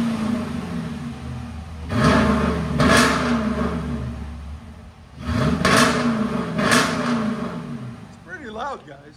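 2019 Jeep Grand Cherokee Limited X with a 5.7L HEMI V8 and mid muffler delete, revved in two pairs of loud, sharp blips with a deep exhaust rumble between them and brief voices near the end.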